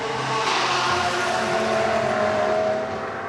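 A GT race car roars past at speed during a Blancpain Sprint Series round in Moscow, a loud sustained engine note that sweeps across and fades slightly toward the end.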